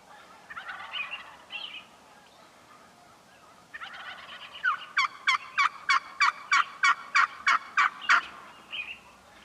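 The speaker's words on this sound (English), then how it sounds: "She runs right up to my decoys and starts doing an alarm putt." A wild turkey hen near decoys gives a run of sharp, evenly spaced alarm putts, about a dozen clipped calls in quick succession, preceded by softer clucking and calling in a quiet outdoor setting.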